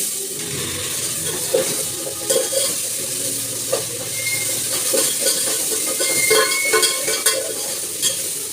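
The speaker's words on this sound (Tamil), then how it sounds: "வெங்காயம் வந்து நல்லா ப்ரௌன் ஆகிற வரைக்கும் நல்லா வதக்கணும்." Onions are stirred and sautéed in a pan until browned, a close hissing sizzle broken by repeated scraping stirs that come and go in bursts.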